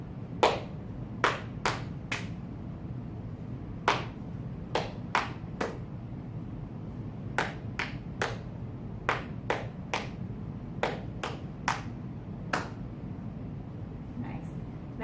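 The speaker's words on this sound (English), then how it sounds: "clapping without saying our syllables out loud" Hands clap a syllable rhythm in a third-grade music lesson, sharp claps grouped in uneven patterns of twos and threes over a faint steady background hum, with no voices counting along.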